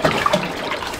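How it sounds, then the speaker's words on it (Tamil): Water being poured, a short splashing, gurgling stream lasting about a second, close and fairly loud, with no voices. "கொஞ்சம் ஊத்துடா கொஞ்சம் ஊத்துடா."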